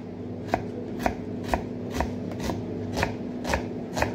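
An onion chopped with a knife on a board, a steady rhythm of about nine crisp close cuts spaced roughly half a second apart, with no one talking.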